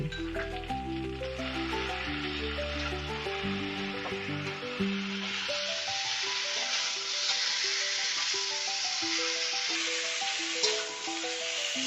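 Pointed gourd and prawns sizzle and hiss in a hot pan as they are stirred, a steady frying crackle with soft scraping, and a tune plays faintly underneath.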